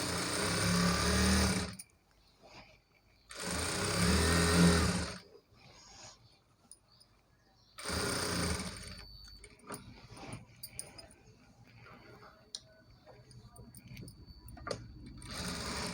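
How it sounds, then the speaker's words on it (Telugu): A sewing machine stitches a Punjabi dress top in several loud bursts of rapid mechanical whirring, separated by quiet pauses, with softer handling clicks and rustles between runs. "ఈ లాస్ట్ నుండి మళ్ళీ స్టార్ట్ చేయాలండి మనము స్టిచ్"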